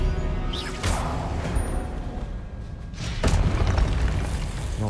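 An Expelliarmus spell is cast in a wizarding video game, heard as two deep booming bursts with crackling, whooshing tails over a low rumbling background, fairly loud and close.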